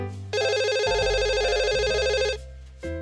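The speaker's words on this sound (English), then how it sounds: "The telephone rang." A telephone rings in a quiet room, one long warbling electronic ring tone lasting about two seconds, then a brief second burst starting just before it cuts off.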